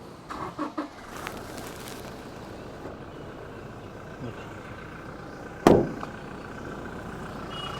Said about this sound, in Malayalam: നമ്മളിപ്പോൾ വണ്ടി സ്റ്റാർട്ടാക്കിയിട്ടുണ്ട് ഇതാണ് വണ്ടിയുടെ സൗണ്ട്